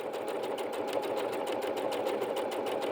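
A Bernette B-77 sewing machine stitches fabric in a smooth, continuous run, its motor humming under a fast, even needle beat that stays close and steady throughout.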